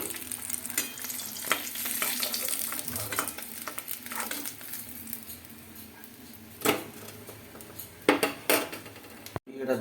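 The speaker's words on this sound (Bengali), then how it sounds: "লাল লাল করে সব মাছগুলো ভেজে নিচ্ছি।" Fish frying in a pan sizzle steadily up close, broken by several sharp scrapes and clacks of a utensil turning and lifting the pieces.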